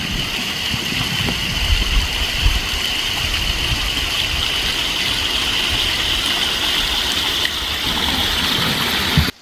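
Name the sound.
water running down a drain waterfall into pond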